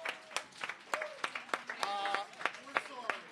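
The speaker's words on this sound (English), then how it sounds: "If we could get a round of applause for some of the new players who just showed up tonight." Scattered hand claps from a small gathering welcoming new players at a Friday five-versus-five game night, a few sparse, uneven claps under talking voices.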